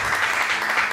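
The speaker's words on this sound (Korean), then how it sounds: "승리의 박수, 동료의 박수입니다." A church congregation claps together during a Sunday service, a steady, dense wash of applause heard alone for about a second.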